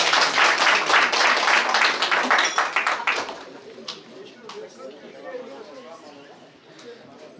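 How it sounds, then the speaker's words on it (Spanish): Audience applause at a Christmas fiesta for the Virgen María in San Pedro de Cajas: dense, close clapping for about three seconds, then thinning to scattered claps and chatter. "Esas palmas, mis amigos."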